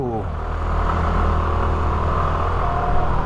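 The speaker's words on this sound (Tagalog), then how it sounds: "Medyo pahirapan pala ang pagpasok ng motor dito." Motorcycle engine rumbling steadily as it rides into a parking area at a busy tourist spot in Baguio City, a close, continuous low drone with no talk over it.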